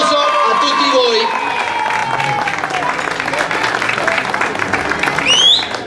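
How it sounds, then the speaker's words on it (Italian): Applause from an audience at an outdoor sports award ceremony, a continuous wash of clapping lasting several seconds, loud and fairly close, with a few whistles and background voices mixed in. "Un applauso a tutti voi"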